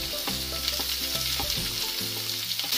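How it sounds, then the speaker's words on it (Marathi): Chopped tomato sautéing in hot oil with browned onion in a pan for a soybean bhaji, a steady close sizzle with occasional stirring scrapes throughout. "टोमॅटो पण मऊ होईपर्यंत आपण परतून घेणार आहोत"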